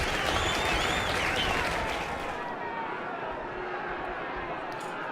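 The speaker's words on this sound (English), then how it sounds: "Clap, clap, clap, clap, clap, clap, clap, clap, clap." Crowd applause in The Lion's Song video game, set in a lecture hall at a learning institute, loud dense clapping that fades to a quieter murmur after a couple of seconds.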